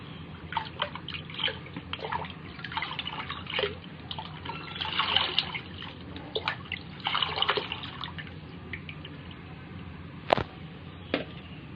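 Lemon-based liquid fertilizer being stirred into water, giving a run of soft sloshing, trickling and dripping sounds with a few sharper splashes, moderately close and with no talking.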